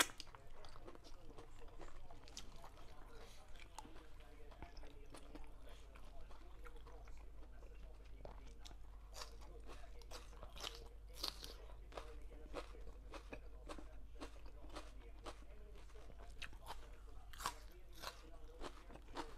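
Squid stomach and dumplings being chewed and eaten close up, with repeated crunchy bites and wet mastication sounds throughout, while voices talk quietly in the background.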